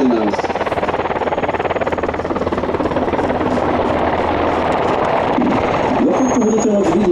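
A UH-60M Black Hawk helicopter of the Slovak Air Force performs a dynamic flight display at NATO Days Ostrava. Its rotors throb loudly and steadily, with a whining turbine and a shifting pitch near the end.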